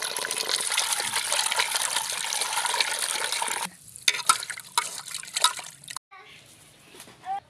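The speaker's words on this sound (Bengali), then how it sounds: "মাছগুলো আমি ভালো করে ধুয়ে নেব।" Pieces of cut koi fish are washed in water: first a continuous rush of running water, then broken splashes and drips as the pieces are handled, with a faint voice at moments.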